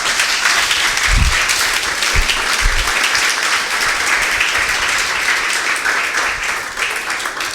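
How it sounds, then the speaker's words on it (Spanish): A church congregation applauding during a sermon, a dense, steady wash of clapping with a few low thumps, lasting the whole stretch. "Dale un aplauso al Señor."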